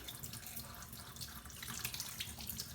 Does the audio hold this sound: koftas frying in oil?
no